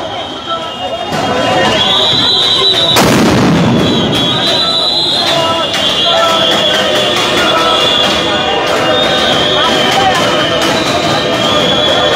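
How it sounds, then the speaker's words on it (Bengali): A sharp, loud blast from a sound grenade rips through a police clash with protesting NTRCA recruitment-denied teachers, followed by a steady roar of crowd noise and shouting voices that continues throughout. "আপনারা দেখছেন কয়েক দফা সাউন্ড গ্রেনেড দিয়ে আসলে তাদেরকে প্রতিহত করার চেষ্টা করছেন"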